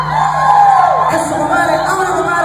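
Crowd shouting and whooping at a live corrido performance in Tenango de San Miguel, a loud sustained cheer rising and falling over steady band sound.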